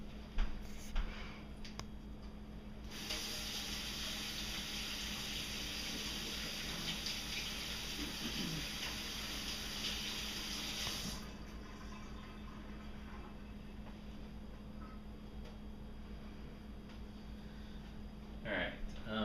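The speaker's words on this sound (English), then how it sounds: "I'm gonna get started and just wash up my hands really quickly." Water runs from a tap as hands are washed in a clinical exam room, a steady broadband rush lasting about eight seconds before cutting off, with quieter room noise and faint handling sounds before and after.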